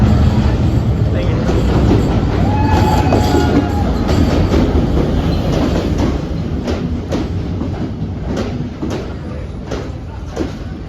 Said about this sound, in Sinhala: කැලිප්සෝ ට්‍රේන් එක යන්නේ බණ්ඩාරල පැත්තට